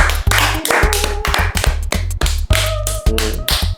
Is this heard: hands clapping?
yes